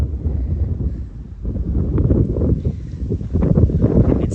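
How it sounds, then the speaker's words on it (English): Steady wind gusting across an open winter wheat field, a continuous low rushing roar with microphone buffeting that rises and falls throughout, no voices. "There's fair wind here"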